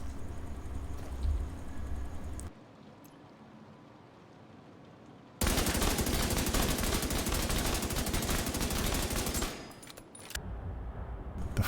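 P416 rifle fire from The Division 2: loud, dense sustained automatic bursts cut by a short quiet gap, then a long continuous volley that breaks off and resumes briefly near the end.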